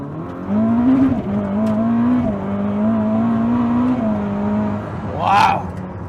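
A 1000-horsepower car floored with all driving-assist systems off: a loud engine note climbs, holds and wavers under hard acceleration, then a brief rising whine or screech near the end.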